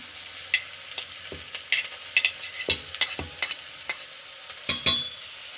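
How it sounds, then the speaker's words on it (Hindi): Onions lightly frying in a pan with green chillies for vegetable manchurian, soft sizzling under irregular scrapes and clinks of a stirring spoon, fairly quiet and close. "हम अनियन को हल्का सा फ्राई करते हैं।"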